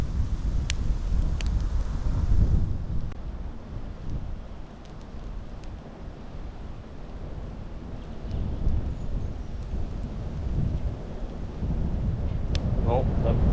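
Strong wind buffeting the microphone at a bushcraft campsite, a constant loud low rumble with gusting swells and occasional small knocks.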